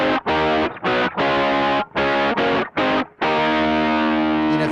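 A heavily distorted electric guitar plays a riff in a classic tone, with loud, choppy chord stabs separated by short gaps and then a long sustained chord ringing out.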